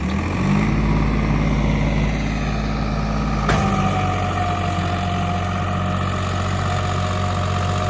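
A tractor engine labours in a wet, muddy field while pulling a stuck trolley, a loud continuous low drone with a sharp change in pitch partway through, no voices.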